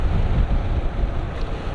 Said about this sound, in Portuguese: É uma ventania do caraças.